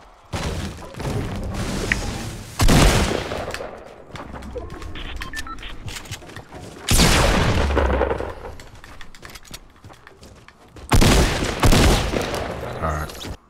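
Fortnite Battle Royale gunfire comes in three loud bursts of rapid shots and booms separated by quieter stretches, with a player's voice talking over the action.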